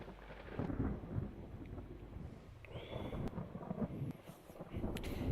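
Naval battle thunderstorm in Ultimate Admiral Dreadnoughts, rolling low thunder and rain-like rumble sustained throughout, with a few faint higher tones over it.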